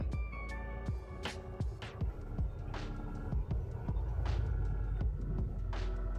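A sewing machine stitches along the sides of a baby quilt folded into three layers. Its steady throbbing run is broken by short pauses, with a low hum underneath and no talking.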